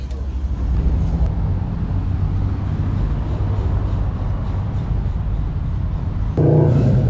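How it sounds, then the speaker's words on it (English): Steady loud engine and road rumble of motorcycles passing close by a park at Lake George, New York, continuous throughout with a heavier surge near the end. "So many motorcycles."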